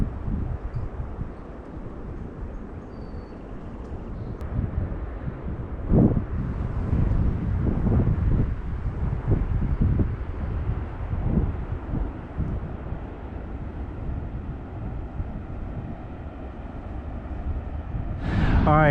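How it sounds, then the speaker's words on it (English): Strong wind blowing across a beach on the central Washington coast, buffeting the microphone with a loud continuous low roar that swells and gusts for the whole stretch. "it has been pretty windy today"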